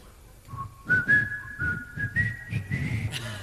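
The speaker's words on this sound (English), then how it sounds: "this is what you'll whistle like. I'll do it first." A man whistles a short melodic tune, clear and close, with notes sliding and held in a lilting phrase, while soft background crowd noise murmurs beneath.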